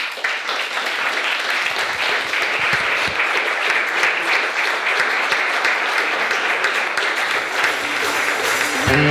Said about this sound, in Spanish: por favor un fuerte aplauso para